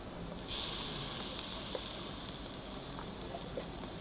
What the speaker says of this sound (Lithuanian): Kepam mėsytę.